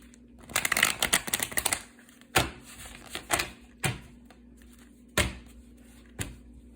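A tarot reader's deck of cards riffled and bridged in a dense burst, followed by several separate sharp shuffles spaced out in a quiet room.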